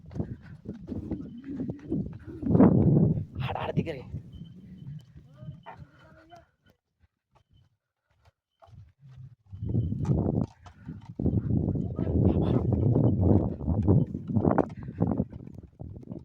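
Bulls pulling a bullock cart on an outing by the Pranahita river at Vemanapalli, their hooves clip-clopping in an uneven rhythm among a crowd of people talking nearby, with a brief quieter lull midway.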